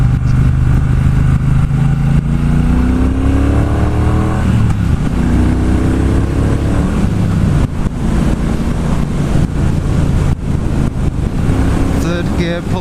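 A 2018 Triumph Bobber Black motorcycle pulls hard through the gears, engine note rising and falling with each shift under heavy wind rush, loud and close with a rider talking over it.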